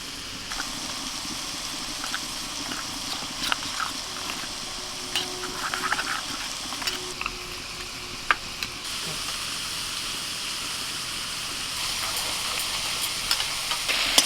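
Pieces of bottle gourd lightly frying in a pan give a steady, gentle sizzle throughout. Occasional small clicks and stirring taps rise above it.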